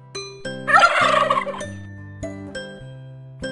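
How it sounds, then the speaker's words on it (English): A turkey gobbling once, a loud rattling burst over a plain musical backing of sustained tones and chimes, with no talking. "Turkey."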